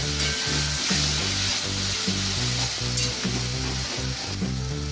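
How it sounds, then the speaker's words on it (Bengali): Bengali-style soybean-chunk fish curry sizzles loudly and steadily in a pan as water is added, a dense frying hiss with a rhythmic stirring or bubbling pulse, close and continuous with no talk. "এই যে জল দিল গ্রেভি অনুযায়ী"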